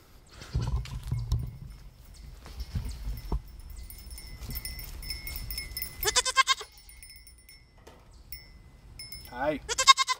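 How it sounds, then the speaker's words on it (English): Goats bleat in wavering cries on a farm, two loud bursts near the middle and end, with other animal noises and shuffling around them. "there are very definitely goats here."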